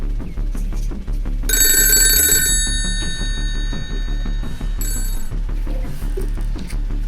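A telephone rings in two short electronic trills, the first longer and louder, over a steady low rumbling background in a Gujarati comedy office scene.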